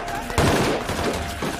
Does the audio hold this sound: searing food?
no